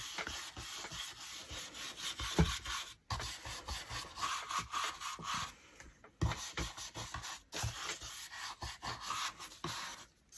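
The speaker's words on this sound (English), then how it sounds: "I'm going to go over it with some Fusion Clear Wax now" Fusion Clear Wax brushed over a thrifted wooden furniture piece, a steady close rubbing and scrubbing with rhythmic strokes and brief pauses, no talk.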